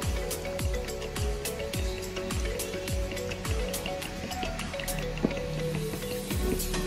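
Dough of flour, water, egg and lumps of margarine being stirred together for fried molen pastry, giving soft repeated wet squelches and drips in a steady rhythm, close and fairly loud with no talking.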